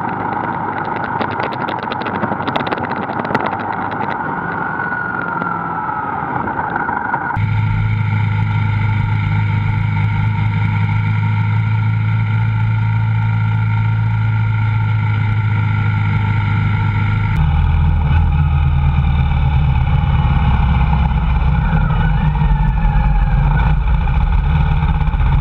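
A motorbike rides below 30 mph in a built-up area, with steady engine drone and wind rumble close to a bike-mounted camera, the tone shifting abruptly twice as the gear or speed changes.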